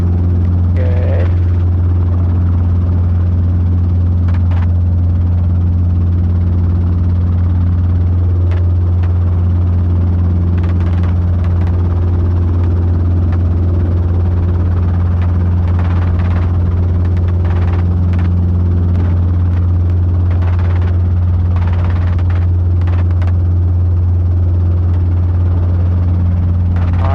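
A Robinson R22 helicopter drones steadily in flight, heard from inside the cabin as a loud, constant low rotor and engine hum with a strong buzzing tone, and occasional faint clicks and noises over it.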